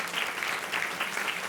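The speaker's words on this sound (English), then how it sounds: "Applause." An audience at a panel on social economy ecosystems claps for a speaker, a steady dense round of applause filling the room, moderately loud and unbroken.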